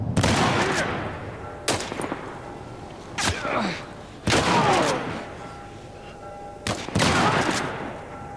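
Gunfire bursts out in the action video game The Last of Us Part 1, several loud separate shots or short volleys spaced a second or two apart, each trailing off with echoing debris and rumble.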